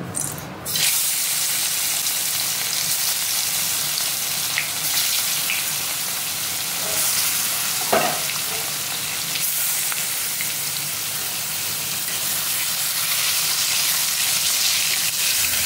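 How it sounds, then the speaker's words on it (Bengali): Fish frying in hot mustard oil in a wok gives a loud, steady sizzle that runs on without a break, with a couple of brief clinks along the way. "বন্ধুরা মাছটাকে ভাজতে শুরু করে দিয়েছি"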